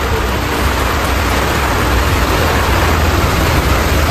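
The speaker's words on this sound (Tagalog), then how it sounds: "Lakas pati ng ulan natin." Heavy rain pours down steadily during an outdoor shopping trip, a dense, loud, continuous hiss that fills the whole clip with no talk over it.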